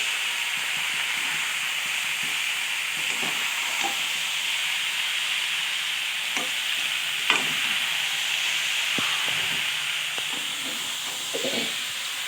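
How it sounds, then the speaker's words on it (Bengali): Pea and potato curry cooks in a pan with a steady, close sizzle and hiss, broken by occasional soft knocks and scrapes of a stirring spoon; no one speaks. "এই তরকারিটা বানাচ্ছি মটর আর আলুর তরকারি"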